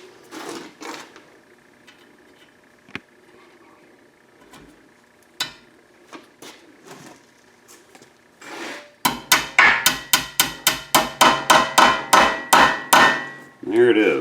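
A rivet is hammered into a shovel handle: a few scattered taps and small handling noises, then a rapid run of about a dozen sharp, ringing metallic blows close to the microphone.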